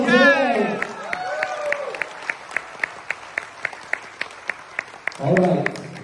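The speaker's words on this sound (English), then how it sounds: "So please, can I have a round of applause for everyone today?" A room full of audience members gives a round of applause at a corporate presentation. Sparse, individual claps ring out at a steady rhythm between stretches of a voice talking, rather than a full ovation.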